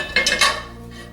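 A frittata slides off a pan onto a plate, giving a few quick clinks and scrapes of metal against ceramic in close succession, close and clear, with no talking.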